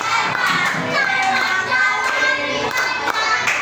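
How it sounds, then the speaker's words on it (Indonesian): A classroom of students applauds a group that has just presented on computational thinking, uneven clapping mixed with children's chatter and voices, close and lively. "Beri tepuk tangan."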